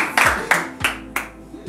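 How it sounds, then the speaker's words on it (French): Four or five separate claps at a game-show-like event, spaced about a third of a second apart, loud and close, with faint background sound between them rather than sustained applause. "Applaudissez-le."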